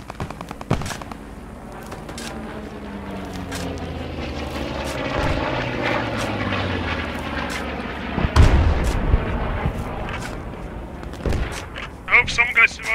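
Artillery fire and explosions boom across a battlefield in a multiplayer war game event, with repeated sharp blasts and gunfire over a droning aircraft rumble while players talk throughout.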